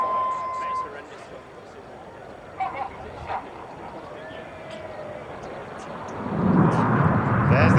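Red Arrows display jets pass low over the Goodwood Festival of Speed trailing smoke, a distant jet roar that builds into a louder rushing wave near the end, heard under a commentator talking.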